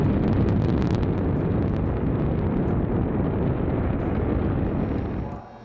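A super heavy-lift space rocket roars at launch, its engines firing with a dense, continuous low rumble and crackle that stays loud and steady for over five seconds before easing slightly at the end.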